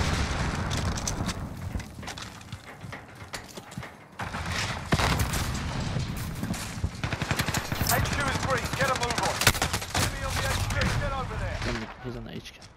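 Sustained automatic gunfire in a Call of Duty match, rapid bursts and fusillades up close with mechanical clicks and rattles, continuous for most of the stretch.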